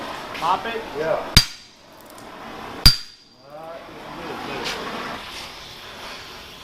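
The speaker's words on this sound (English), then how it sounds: "Will, you bring me a hammer?" Two sharp, ringing hammer strikes on metal about a second and a half apart, with quiet background noise and faint voices between.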